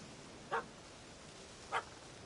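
Two short, faint yaps from a small puppy in The Witcher 3, spaced about a second apart against a quiet outdoor background.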